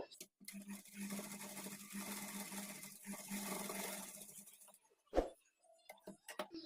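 A sewing machine stitches the front part of a blouse in one steady, quiet whirring run of about four seconds, followed by a single sharp knock and then near silence.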